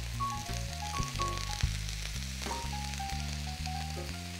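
Bean sprouts, vegetables and pan-seared tofu sauté in a hot pan with a bright, steady sizzle and a few stirring clicks, while soft music plays underneath.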